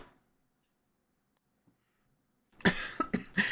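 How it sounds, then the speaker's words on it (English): A short burst of coughing, several rough coughs in quick succession, close and fairly loud after a near-silent stretch. "Oh my goodness, stop coughing."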